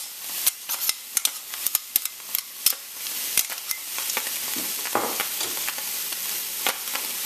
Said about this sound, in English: Now I'm just going to add the garlic.